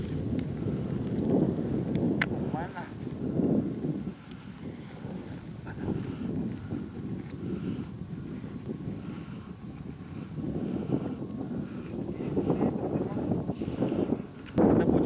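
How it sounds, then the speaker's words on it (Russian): Strong wind gusts across a mountain ridge near Mount Evrashkalakh in Kolyma, buffeting the microphone with a low, rough roar that swells and eases in waves without a break. "Меня чуть ветром не сносило."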